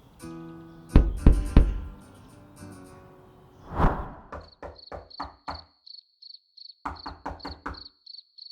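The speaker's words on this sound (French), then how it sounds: "quelqu'un frappe très fort à la porte." Loud knocking on a door comes in separate clusters of heavy, rapid raps, with a thin high chirping tone pulsing in the background between and under the later knocks.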